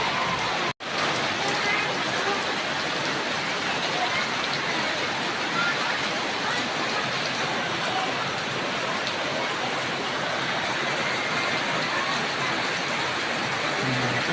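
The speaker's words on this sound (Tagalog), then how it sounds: "Lakas ng ulan" Heavy rain pours steadily and loudly, a dense, unbroken hiss with a brief dropout near the start.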